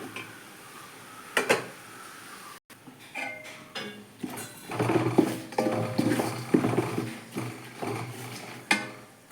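Ginger, garlic, turmeric and chili powder fry in a pan for mango pickle, with a spoon scraping and clinking against the metal over a soft sizzle, the stirring growing busier partway through and ending in a sharp clank.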